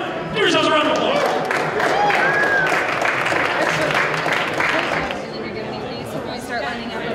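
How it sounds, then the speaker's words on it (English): Audience applause and crowd chatter at an opening-night premiere of The Hobbit, a dense, steady wash of clapping mixed with cheering and babbling voices, easing slightly toward the end. "Give yourselves a round of applause."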